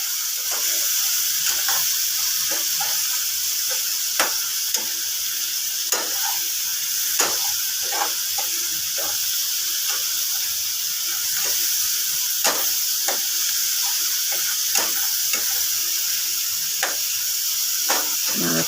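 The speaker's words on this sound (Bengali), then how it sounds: "একটুখানি জল দিয়ে দিলাম কষাবার জন্য।" Spice masala sizzles in a pan after a splash of water, with a steady hiss of frying and scattered scrapes and taps of a stirring spatula throughout, close and continuous.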